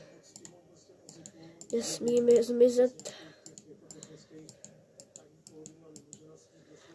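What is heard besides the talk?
computer mouse clicking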